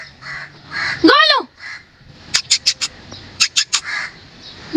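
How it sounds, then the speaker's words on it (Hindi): Crows cawing near a nest overhead: one loud, harsh caw followed by two quick bursts of short, rhythmic caws, close and prominent, with voices talking in the background. "ऊपर कमों ने घोंसला बनाया कहीं वहीं ना पहुंच जाए गोलू"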